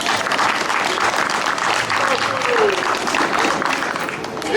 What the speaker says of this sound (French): Est-ce qu'on peut applaudir pour mon frère?